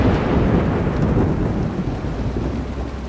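Rain and a thunderstorm in the video game Road 96: heavy, close rain hisses under a deep rolling rumble of thunder that slowly fades.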